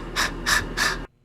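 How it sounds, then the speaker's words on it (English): Recorded panting, three rhythmic breathy huffs evenly spaced and close to the mic, ending abruptly in near silence. "that's the first clip of panting."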